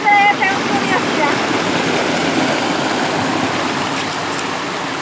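Flowing water of the Rio Grande below a waterfall rushes as a steady broadband wash, close and loud, with a brief tonal sound at the very start.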